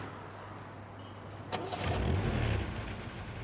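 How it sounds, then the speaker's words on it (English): A getaway car's engine cranks and starts, then revs briefly with a low rumble that swells and fades over a hissy background, heard from some distance. "When Steve heard the sound of a car starting, he felt it was safe to go to the window."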